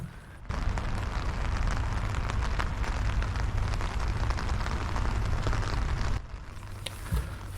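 Rain falls steadily at a UN memorial cemetery, a dense, even hiss of drops close around that carries on for several seconds before easing slightly at the end, with no voices.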